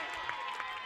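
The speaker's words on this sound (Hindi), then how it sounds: "रामजू के लिए तो काफी ज्यादा तालियां बज रही है भाई" Applause from a crowd at a cricket final as a player is honoured, a steady wash of clapping heard from some distance, with a voice speaking over it.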